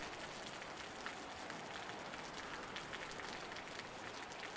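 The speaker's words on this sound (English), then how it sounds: "but it's actually rain." Rain falls in the survival video game Osiris New Dawn, a steady, soft, even hiss with fine patter that runs alone at low level throughout.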